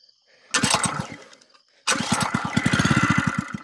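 Small 2.5 hp Lifan engine fed 99% isopropyl alcohol struggles to start: a short sputtering burst of firing pulses dies out, then a second attempt catches with a fast, loud, uneven popping run, close by with no talk.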